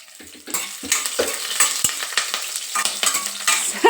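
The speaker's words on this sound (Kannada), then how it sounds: "ಈಗ ಅದಕ್ಕೆ ಹಸಿಮೆಣಸಿನ್ಕಾಯಿ ತೊಗೊಂಡಿದ್ವಲ್ಲ ಅದನ್ನು ಹಾಕೋಣ. ಅದನ್ನು ಹಾಕಿ ಸ್ವಲ್ಪ ಬಾಡಲಿ." Green chillies sizzle and fry in a hot pan and are stirred with a utensil. The crackle is loud and continuous and comes close up, with the scrape of the stirring running through it.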